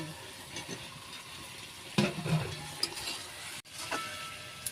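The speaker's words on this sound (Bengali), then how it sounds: "এই দেখুন এখন আমি আলু দিয়ে দিচ্ছি আলু ভাজা" Potatoes frying in spiced oil in a pan for cauliflower and potato biryani, a soft, quiet sizzle with occasional light clinks and stirring noises.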